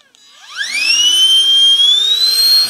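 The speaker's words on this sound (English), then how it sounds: "So I'm going to turn this on. It will be noisy, but I will let it run in real time so you can see how quickly it does inflate this mattress." A YANTU AM25 portable air pump starts up to inflate a mattress, its whine rising quickly in pitch over half a second and then holding a loud, steady high-pitched drone.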